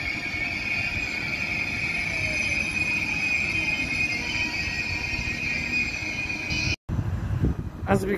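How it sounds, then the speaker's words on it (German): A DB Fernverkehr ICE 3 class 403 single unit passes with a steady roar and a high wheel squeal. A brief gap comes near the end before the noise resumes. "Soloeinheit ICE 3 Baureihe 403 von DB Fernverkehr"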